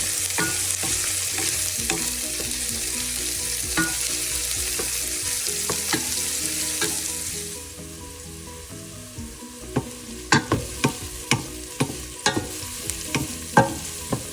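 Onion and garlic sweating in a pan over low-medium heat for an Italian-style tomato pasta sauce: a steady close sizzle fills the first half, then quieter frying punctuated by a series of sharp spoon taps and stirring clicks.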